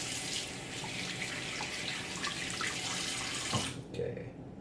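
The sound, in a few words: water running from tap into sink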